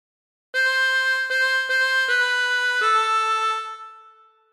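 A harmonica plays a short phrase of Waltzing Matilda, five clear reedy notes in steady succession, close and alone, the last one ringing out and fading.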